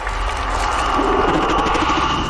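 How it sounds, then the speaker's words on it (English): Applause mixed with cheering from a crowd at an event for The Watchers, steady and continuous, with raised voices threaded through the clapping. "Applause"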